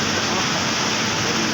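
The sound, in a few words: rain water falling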